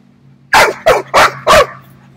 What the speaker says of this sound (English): Oh, that is my dog.